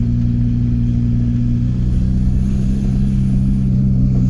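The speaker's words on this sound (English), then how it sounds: "nice low down grunt in this engine that the AAZ really didn't have" A VW T25 van fitted with a swapped-in TDI diesel engine drives along, its low, steady engine drone and road rumble continuous and close throughout.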